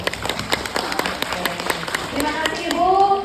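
Audience in an indoor training session claps hands, a scattered round of clapping with a voice talking over it and a few tonal sounds near the end.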